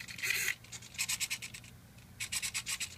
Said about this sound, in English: Knowing how slow these servos are moving, and how noisy they are.